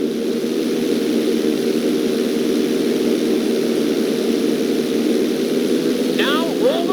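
Steady drone of an airplane engine in flight during a GTA 5 flight school stunt mission, loud and constant, with a brief chirpy sound near the end.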